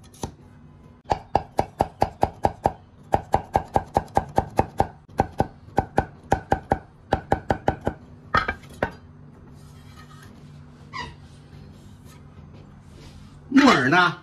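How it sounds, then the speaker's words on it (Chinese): A knife chops wood ear fungus into shreds on a cutting board in quick, sharp, close-up strokes, with short pauses between bursts. A few clinks follow as the chopping stops. "木耳呢切成丝儿"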